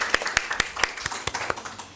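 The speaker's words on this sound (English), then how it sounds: "One more round of applause for our speakers today" A few scattered, separate claps from a small audience thanking the speakers at a roundtable talk on innovation hubs, sparse and fairly quiet with uneven rhythm.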